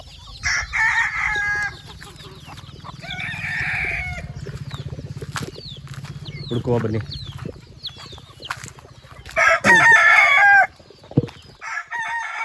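Native country hens cluck and squawk nearby while a rooster crows loudly, with wings flapping at moments and a person briefly speaking over the farmyard noise.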